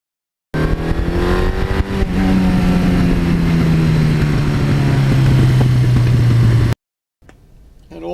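A 1982 Suzuki GS1100E motorcycle engine revs and roars nearby, its deep exhaust note sliding gradually lower over several seconds before cutting off abruptly.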